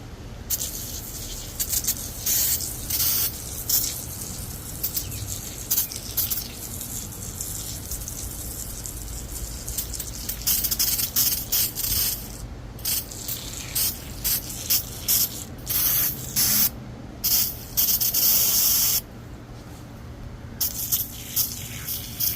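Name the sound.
spraying degreaser on engine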